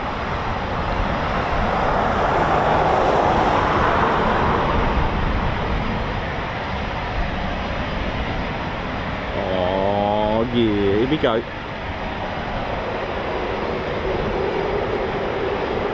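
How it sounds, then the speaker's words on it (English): Eurofighter Typhoon FGR4 jets with EJ200 engines starting up at RAF Coningsby, a broad steady roar with a rising whine partway through, heard outdoors from a distance under people talking. "It's time for some Foon noise that are powered by EJ200 engines smashing out. Oh, listen to those startups."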